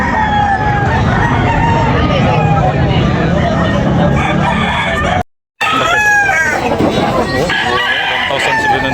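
Roosters crow and hens cluck amid a busy Tabunok, Talisay chicken market, several birds calling close by over steady crowd babble and a seller's voice, with a brief cut in the middle.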